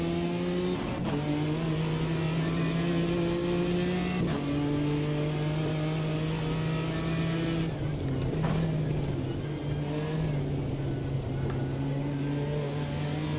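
A GT4 race car engine in the Automobilista 2 racing game at Oulton Park, revving hard with steady, loud, close engine tones and brief dips at a couple of gear shifts, heard alone.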